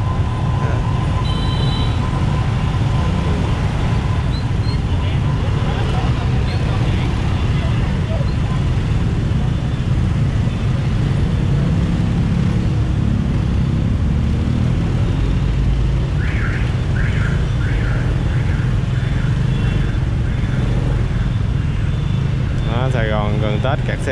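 Dense Tet holiday traffic jam on Nguyen Trai street in Saigon at rush hour, a constant roar of engines heard up close from a motorbike, with horn beeps near the end.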